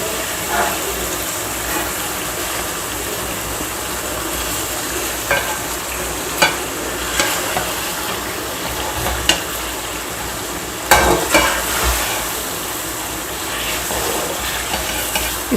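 Fish pulao masala with crushed garlic and yogurt frying in a pot, a steady hissing sizzle with occasional scraping clicks from stirring, loud and close, no voices.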